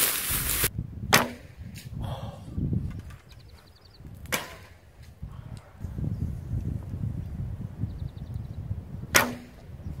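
Spiral fletched fluflu arrows fly off a bow outdoors in a few separate shots, each a brief sharp snap and whoosh with some faint clatter between, with no talking.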